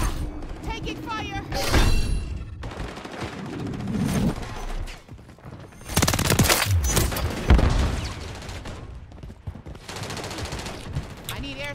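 Rapid automatic gunfire bursts from the Call of Duty MW3 video game crackle loudly in repeated volleys, mixed with booms and thuds, while a player talks over the action.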